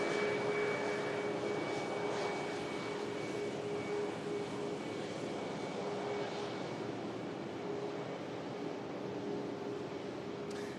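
A Ryanair jet taxis at Manchester Airport with a steady, even engine roar and a constant whine lasting throughout. The sound is moderately loud and unchanging, heard from a distance outdoors, with no voices.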